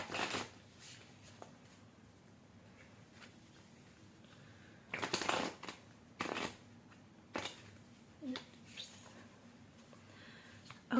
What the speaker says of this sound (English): I'm going to pull out 6 more cards to help us understand this